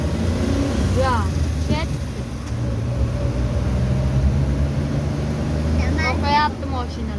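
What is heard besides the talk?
heavy road traffic, cars in a traffic jam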